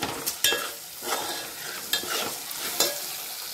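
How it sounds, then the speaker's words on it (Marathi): Green chillies and capsicum stir-fried in a pan, a steady sizzle broken by four sharp scraping stirs spaced about a second apart, close and moderately loud with no voices. "मिरची परतवून घेतले।"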